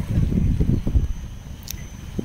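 Strong seaside wind at Coney Island buffets the microphone with a low, rumbling roar, gusting unevenly throughout.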